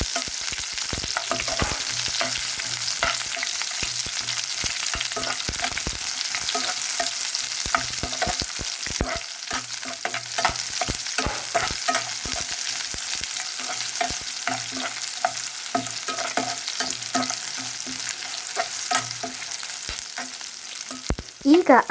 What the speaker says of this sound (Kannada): ಈರುಳ್ಳಿ ಚೆನ್ನಾಗಿ ಗೋಲ್ಡನ್ ಬ್ರೌನ್ ಬರೋ ತನಕ ಚೆನ್ನಾಗಿ ಫ್ರೈ ಮಾಡ್ಕೊಳ್ಳಿ